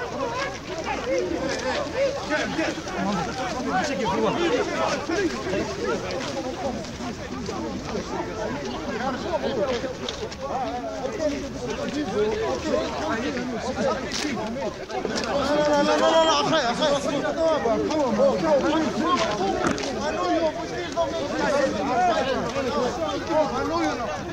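A large crowd chatters and shouts together in a steady, dense babble that stays loud and continuous throughout, swelling slightly midway, with many overlapping voices and no single speaker standing out.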